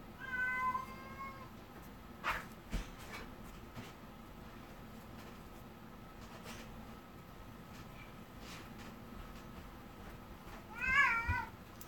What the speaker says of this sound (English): We're having cat issues today, guys.